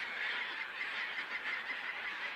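A small group of herring gulls near a tern colony on an island in the Selenga delta calls continuously, a dense, overlapping chorus of harsh cries held at a steady, fairly loud level throughout.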